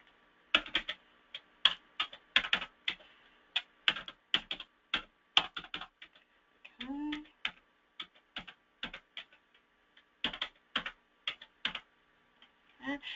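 Fingers type on a computer keyboard while data is entered into a client system: crisp, close key clicks in quick bursts with short pauses, quiet between strokes and no voices.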